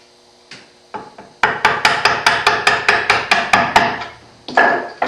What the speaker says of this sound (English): if you use the mallet very lightly, it's generally with acceptable results.